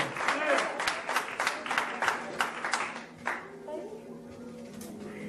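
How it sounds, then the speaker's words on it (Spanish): A church congregation at a Spanish-language service claps in a burst of sharp, rhythmic claps that fade away after about three seconds, with voices underneath and then the low hum of the room. "Den un aplauso al Señor"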